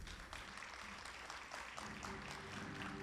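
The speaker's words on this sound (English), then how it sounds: "A round of applause." Audience applause at a graduation ceremony for a school's class of 2021, a steady wash of clapping from a crowded hall that holds evenly for a few seconds, with a faint low hum underneath.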